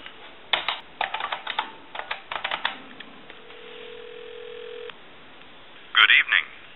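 A repaired vintage telephone on the line: handling clicks and taps, then a steady dial tone for about a second and a half, followed by a few short touch-tone dialing bursts, all with thin, band-limited phone-line quality.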